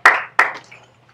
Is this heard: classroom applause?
yes